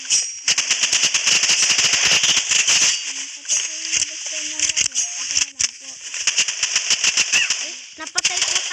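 Rapid rifle gunfire in the Roblox game Rivals, crackling in quick bursts with short gaps, bright and sharp against light background effects.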